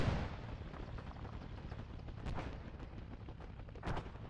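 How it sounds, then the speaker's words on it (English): Faint, distant gunshots and dull booms rumble through a military video game battle with a tank, forming a steady low roar with a few sharper reports. "Sounds like there's shots coming from the right"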